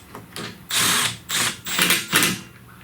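A power drill runs 10mm-headed M6 bolts into a 2023 Hyundai Santa Fe during an oil change, making four short whirring bursts in quick succession, close and fairly loud.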